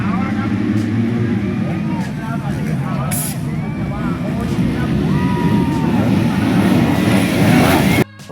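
Racing motorcycles in the A-Class 250 main event of the Thailand Supercross Championship roar together as a steady, loud, dense engine drone, with revving whines rising and falling over the pack, and a crowd or announcer voice faintly underneath.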